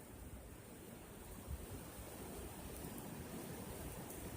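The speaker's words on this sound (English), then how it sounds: "the wind is blowing so hard because it's happy" Strong wind blows on a bright day as a steady, broad, low rushing roar that swells slightly partway through, heard alone with no talk.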